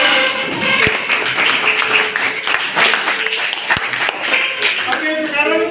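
A classroom group applauds after a presentation, dense clapping from many hands sustained for several seconds, close and fairly loud with occasional sharp taps standing out.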